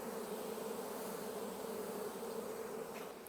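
Honey bees swarm and drone around an open hive during an August inspection, a dense, continuous buzzing hum that stays steady and fairly quiet for the whole stretch, with no voices.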